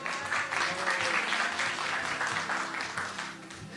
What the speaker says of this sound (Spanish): Un aplauso para ellas también